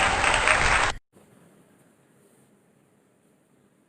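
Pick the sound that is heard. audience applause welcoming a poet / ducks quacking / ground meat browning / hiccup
audience applause welcoming a poet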